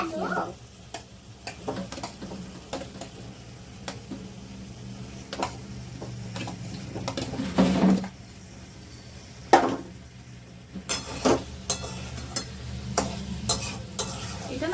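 Potatoes fry in ghee with garam masala while being stirred, a low continuous sizzle punctuated by irregular clinks and scrapes of a utensil against the pan, with a voice faintly present.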